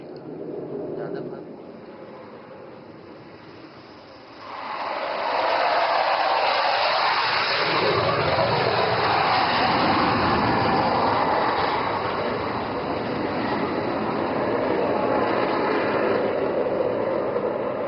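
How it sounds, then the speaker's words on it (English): An Indian Air Force fighter jet approaching to land on a highway emergency landing strip, a distant roar that swells into a loud, broad jet rush and holds steady, with a voice speaking over it. "And here comes call sign Abhimanyu 1, piloted by Group Captain Arun Kumar, aligning for landing."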